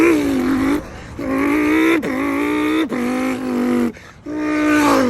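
A man imitates a Lamborghini Huracan launch control with his mouth, voicing loud rising engine revs in several bursts separated by short gaps, like quick gear shifts.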